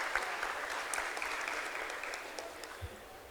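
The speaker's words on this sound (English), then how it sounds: "a huge round of applause for Shri Vikas Sethi" Audience at a panel discussion during an investment event applauding, a dense sustained clatter of many hands clapping that fades gradually toward the end.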